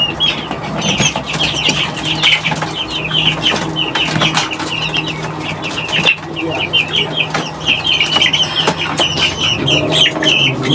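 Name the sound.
chickens clucking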